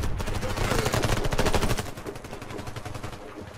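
Rapid automatic rifle fire in the shooter game Warface, a dense loud burst of repeated shots that eases slightly after a couple of seconds but keeps going.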